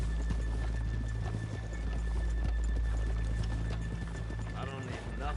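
Steady clip-clop of horse hooves on hard ground in the video game Red Dead Redemption 2, with a short whinny near the end and voices murmuring underneath.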